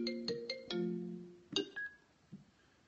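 A mobile phone ringtone for an incoming call: a short melodic run of bright electronic tones, then a second phrase after a pause, close and clear, with no talk over it.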